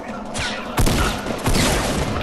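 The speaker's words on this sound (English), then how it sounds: "I'm getting shot at." Rapid gunfire in a Fortnite match, bursts of shots crackling loudly with a sharp boom near the middle, dense and close throughout with no talking.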